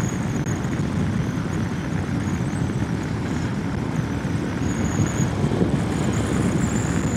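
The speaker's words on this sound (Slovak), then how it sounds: "Ale strašne tu fučí." Strong wind buffets the rider of a 2025 Yamaha Tenere 700 on the move, a loud, steady roar of rushing air against the helmet and windscreen that masks almost everything else.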